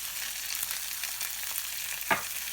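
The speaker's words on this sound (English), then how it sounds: "just let those fry away" Pork chops fry in a pan over medium-high heat, giving a continuous even sizzle with one brief clink of a utensil near the end.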